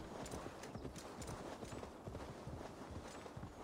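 Horse hooves galloping steadily in Assassin's Creed Valhalla, a continuous close drumming clip-clop rhythm running throughout at moderate loudness, with no talking.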